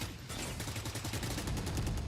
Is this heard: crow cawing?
no